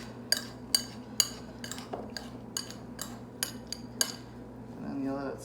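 A spoon scrapes and clinks against a bowl while mixing food seasoned with salt and pepper, giving a steady rhythm of sharp metallic taps close up over a low kitchen hum.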